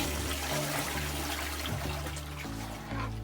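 A toilet bucket is flushed in a hospital care unit: a steady rush of running water from start to finish, close and moderately loud, easing slightly near the end.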